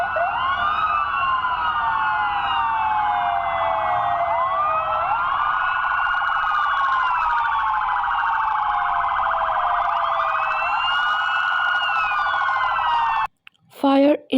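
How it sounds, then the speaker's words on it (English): A police car siren wails loudly and continuously in rising and falling sweeps for about thirteen seconds, then cuts off abruptly and a voice briefly speaks. "police car,"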